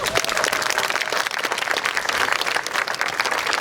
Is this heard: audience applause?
yes